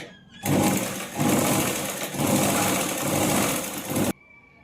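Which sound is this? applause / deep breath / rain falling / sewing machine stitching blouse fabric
sewing machine stitching blouse fabric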